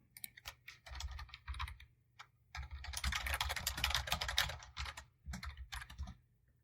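Someone types code on a computer keyboard, quick close clatter of keys in bursts with short gaps, a dense flurry in the middle.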